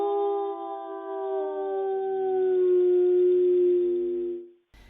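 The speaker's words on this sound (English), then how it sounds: "it led to some howling" A wolf howls in one long, smooth, sustained note that slowly slides lower in pitch, clear and fairly close against a quiet background, then fades out.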